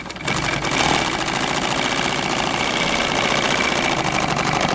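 A domestic sewing machine runs steadily, stitching a straight seam in fabric with a fast, even mechanical chatter that holds at close range from start to finish, with no voices over it.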